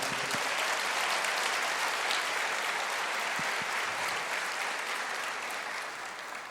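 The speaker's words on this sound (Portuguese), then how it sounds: "Você pode aplaudir o Senhor?" A church congregation breaks into strong, even applause that fills the space and tapers slightly near the end, with a few low thumps under the clapping.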